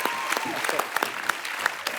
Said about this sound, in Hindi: श्रेयास के लिए एक बार